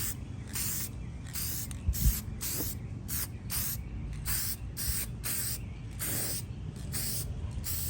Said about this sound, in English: I'm shaking this up a little bit, but I'm just going to give it a good spray like so.